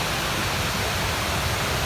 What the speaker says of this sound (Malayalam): ഇതാണ് കേട്ടോ നമ്മളെ വെള്ളച്ചാട്ടം.